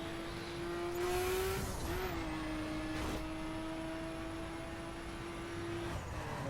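Mini Cooper driving in The Crew racing game, a steady engine hum with a sustained whine that briefly dips and recovers during cornering, plus a faint tire squeal near the start.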